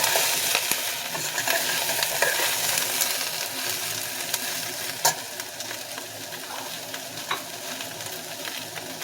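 Pan-fried tofu and bean curd sizzle and fry in a pot of vegetarian curry, a steady hiss under repeated scraping stirs and faint utensil clinks, close and without talk.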